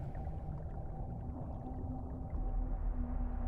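A whale calling in the underwater game Subnautica: Below Zero, a low droning tonal moan over deep ambient water rumble, faint and steady with no talk.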